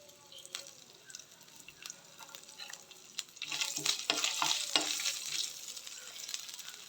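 Chopped coconut pieces hit hot oil left from frying fish, starting with quiet scattered crackles and then swelling into a busy sizzle with stirring scrapes, moderately loud and close, with no talk.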